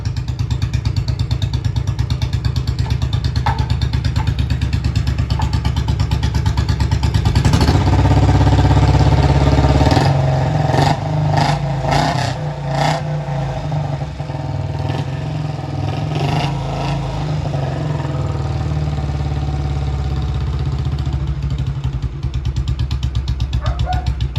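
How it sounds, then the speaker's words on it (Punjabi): A Royal Enfield Bullet's heavy single-cylinder engine runs steadily up close after two years, a deep thumping idle that surges briefly with revving before settling back, mechanical clatter throughout. "ਆਪਣਾ ਬੁਲਟ ਹੋ ਗਿਆ ਜੇ ਸਟਾਰਟ ਕਰੋ ਫਿਰ ਆਵਾਜ਼ ਚੈੱਕ"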